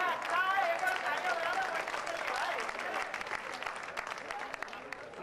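Audience applause after a joke at a Hindi comedy show, a dense, steady patter of many hands filling the room, fairly loud and sustained without clear talk over it.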